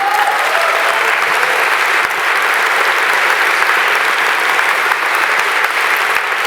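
A political audience breaks into loud, sustained applause for Evo Morales, a dense, even roar of many hands clapping that carries on without pause.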